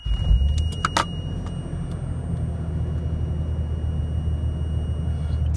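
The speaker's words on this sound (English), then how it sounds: "The truck sounds a little loud." A Toyota Land Cruiser idles with a deep, steady low rumble and a hint of exhaust leak at the rear muffler, with a few clicks and knocks early on before the engine drone settles evenly.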